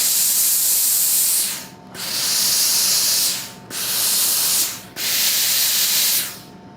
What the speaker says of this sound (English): So that iron has steam that comes out.